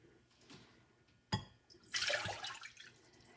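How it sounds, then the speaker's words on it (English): Water is poured into a pot in a quick splash that follows a sharp knock, then trails off as a short, nearby sloshing pour. "So I'm gonna put the water in."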